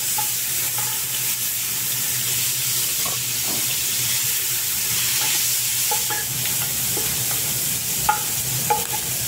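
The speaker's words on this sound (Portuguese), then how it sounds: "Vou deixar esse bacon ficar bem douradinho." Bacon sizzles steadily in a pan of oil, a dense continuous crackle with occasional sharper pops and light scraping, close and without any talk.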